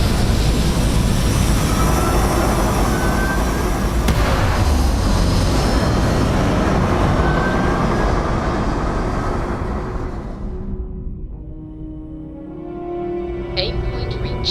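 Spaceship liftoff in a Starfield-style space game: a loud, sustained broadband engine roar rumbles steadily for about ten seconds, then thins and fades into quieter electronic tones as the craft reaches orbit.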